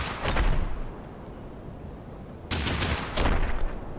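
Gunfire from units shooting in the video game Heart of the Machine, with loud, dense bursts of shots and a booming rumble, one burst at the start and another near the end, no talking.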